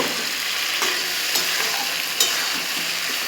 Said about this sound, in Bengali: আর এই দেখুন মশলাটা এইভাবে আমি কষিয়ে নেব